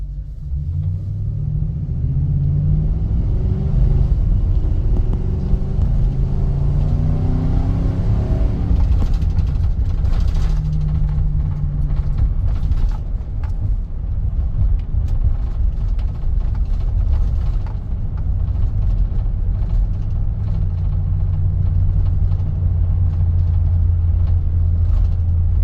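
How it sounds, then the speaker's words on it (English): A Nissan NV van engine drones steadily while driving on the road, with deep rumbling, shifting engine pitch and constant road noise throughout. "Should be a little smoother on this road here, where hopefully we can hear the engine a little bit better."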